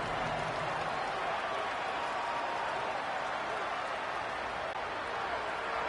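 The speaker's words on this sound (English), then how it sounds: "Listen to the crowd energy here in the early going." A large crowd at a Texas high school football game, Southlake Carroll vs Aledo, roars continuously at a distance, a dense, steady wash of cheering and noise with no breaks.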